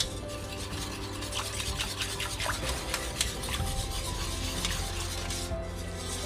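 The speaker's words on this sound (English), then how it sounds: "Take your wire whisk or your spoon and stir it till it's nice and creamy." A wire whisk stirs a yogurt mixture in a pot, giving a steady close scraping and swishing with rhythmic strokes against the metal and a faint sizzle-like hiss underneath, no voices.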